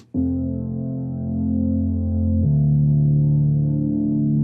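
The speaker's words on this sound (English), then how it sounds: "So this first sound is a Sylenth" A detuned Sylenth saw-wave synth with light filtering and reverb holds a sustained tone, then shifts to a new pitch partway through, playing loud and alone.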